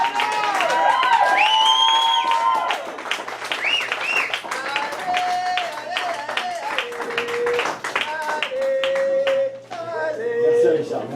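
A slam poetry audience at Bar Populaire in Montréal claps loudly and cheers, with whoops and shouting voices rising above the sustained applause that dips briefly near the end.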